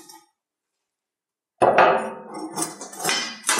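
A steel square is clamped for welding a birdbath from repurposed steel: after a pause, sharp metallic clanks and clinks ring close by, followed by scraping and rattling metal contact.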